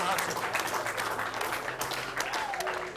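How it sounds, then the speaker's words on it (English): An audience at a disability-themed contest event applauds in a continuous patter of clapping, with crowd voices mixed in beneath it. "A round of applause for her"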